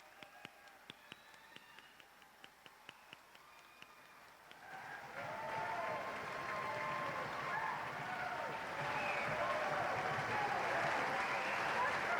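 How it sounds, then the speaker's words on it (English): After a few sharp isolated claps, a crowd at a high school graduation ceremony breaks into sustained applause that swells and stays strong, with some cheering mixed in. "please join me in a round of ruckus applause for our graduates"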